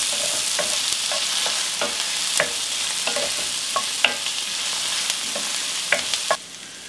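Onion and red pepper fry in about two teaspoons of oil, still uncolored. A close, steady hiss is punctuated by regular spoon clicks and scrapes against the pan.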